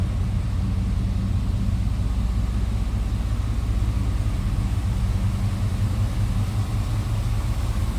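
A 1965 Chevrolet C10 Stepside truck engine with a mild cam runs steadily, a deep throbbing idle with a low rhythmic pulse, close and constant, with no voices over it.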